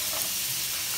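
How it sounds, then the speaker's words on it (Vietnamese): Potatoes fry in a pan as part of cooking Vietnamese beef stew, giving a loud, steady, close sizzle that hisses continuously throughout. "Đây là em đang chiên khoai tây nè."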